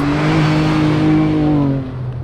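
Ford Bronco Raptor drifting on dirt with its engine revving loud and close, a sustained droning roar that holds steady then eases off near the end.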